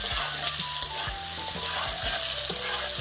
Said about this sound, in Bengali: আলুগুলো একটু ভালো করে ভেজে নেই